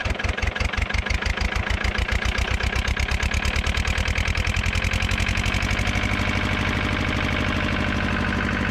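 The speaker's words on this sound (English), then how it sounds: "Lister Dursley twin diesel engine, folks." A 1970s Lister Dursley twin-cylinder diesel engine runs steadily, a close, loud rhythmic chugging whose pulse quickens and smooths as it settles, with no talk over it.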